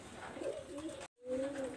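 A male red-eyed Shaloti pigeon coos in two drawn-out, low, throaty phrases separated by a brief silence, close and fairly clear.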